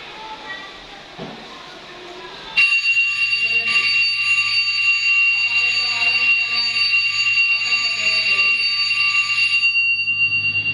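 A steady high-pitched alarm tone rings continuously after a sudden start, loud and close, with a low hum beneath and faint voices in the background.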